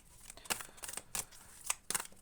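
Soft, crisp swishes and light slaps of tarot cards being shuffled and laid out on a surface, faint and close, with no talking.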